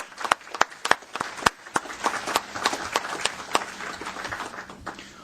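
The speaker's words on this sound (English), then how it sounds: "Patrick, can you stand up and wave your hand so we can have a round of applause for you?" A round of applause at a transit authority board meeting, with a scatter of sharp individual claps standing out over a softer, thinner patter of hands from a modest seated group, the clapping irregular and gradually thinning.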